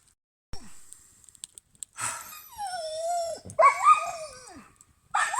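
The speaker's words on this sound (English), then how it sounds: "I think there's dogs over there. I've heard barking." A dog whines and makes short, breathy grumbling yelps up close, with pauses of quiet between sounds.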